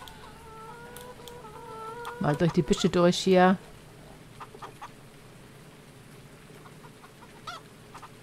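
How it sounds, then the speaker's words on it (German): Chickens clucking in the farming game Landwirtschafts-Simulator 19, a short burst of loud, rapid stacked clucks in the middle, with someone talking before it and quieter ambient farm noise afterward. "Die armen Hühner."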